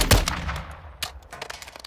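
An M14 rifle firing .308 rounds in Modern Warfare II: a loud, sharp shot up front, then a second crisp report about a second later, with quieter mechanical clicks trailing off.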